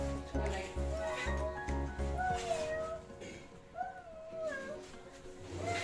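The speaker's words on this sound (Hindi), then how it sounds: "बिल्ली." A cat meows several times in a room, its rising and falling calls clear over a steady low household hum, with a short muffled thud partway through.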